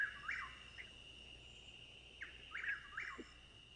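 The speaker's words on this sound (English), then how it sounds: "it's called the Chuck Will's Widow" A Chuck-will's-widow's call, played back on a live radio broadcast, comes through as a few faint, quick chirping phrases repeated at intervals over a quiet background hum.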